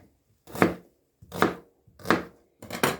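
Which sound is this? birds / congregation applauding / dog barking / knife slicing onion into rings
knife slicing onion into rings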